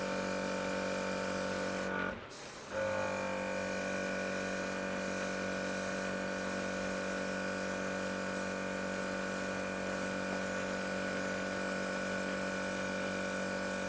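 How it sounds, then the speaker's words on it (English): An air compressor running during airbrushing gives a steady motor hum throughout, broken by a brief dip and burst of hiss early on before the drone settles back in. "So you can hear the compressor kicking in"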